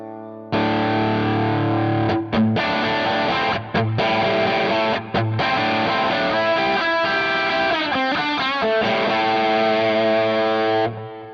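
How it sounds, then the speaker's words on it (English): Electric guitar played through a Helix amp model with scooped mids and sizzling high end, heavily distorted chords ringing loud and sustained with brief breaks between phrases, no talking. "Now let's scoop the mids out and give us more sizzle on the high end."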